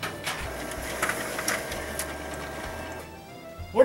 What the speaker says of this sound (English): What are you doing at the printer?